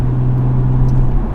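A Lexus IS200 engine drones steadily from inside the car while driving, with a low, even hum and no voices.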